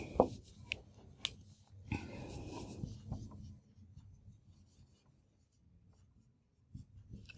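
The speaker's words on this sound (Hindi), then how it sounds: "यहाँ पे मैं लिख देती हूँ लगे तो।" Chalk or marker strokes on a classroom board during a chemistry lesson, a series of short close scratchy scrawls that taper into quiet, with no speech.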